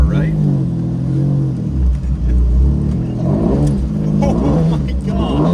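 A 1991 Lamborghini Diablo engine revs and rumbles loudly while the car does donuts, the roar rising and falling in waves across the clip with people talking over it.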